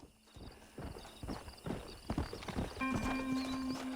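Horse hooves clip-clopping at a trot in the video game Red Dead Redemption, with a horse whinnying partway through over a steady background hum.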